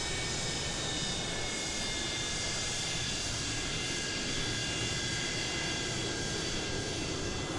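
Steady, continuous roar of tri-jet airliner engines in Microsoft Flight Simulator 2020, a broad unbroken rushing hum with a faint high whine, loud and even throughout with no talking.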